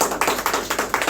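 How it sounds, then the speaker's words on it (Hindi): Small audience at a life-skills training session giving a short burst of rhythmic clapping, about five evenly spaced claps in quick succession, close and fairly crisp. "तालियां एक बार हो जाएंगे."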